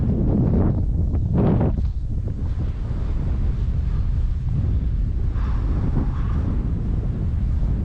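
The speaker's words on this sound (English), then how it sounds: "when that wind kicks in, holy hell. Oh, there she is there, big gust of wind." Strong wind gusts buffet the microphone at Oberon Dam on a cold winter fishing day, a continuous loud low roar with rushing surges and no speech.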